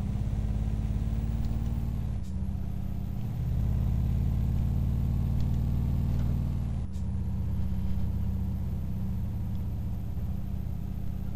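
A ZIL truck engine in Euro Truck Simulator 2 on a Russian map. It revs hard with a loud, steady low roar and drops briefly twice at gear shifts before climbing again. The drone stays continuous and close, with no voices.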